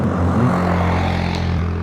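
A DJI Mavic 2 Pro drone flies at maximum motor speed, its motors giving a loud, close, steady droning whine with sustained tonal hum throughout and no talk.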